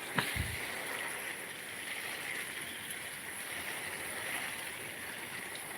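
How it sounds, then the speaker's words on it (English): Water pouring and gurgling steadily onto garden plants, including a lemon tree, in the early morning hours, a continuous flowing wash with a brief knock near the start and no talking. "So we're watering these plants here as they need supply of water."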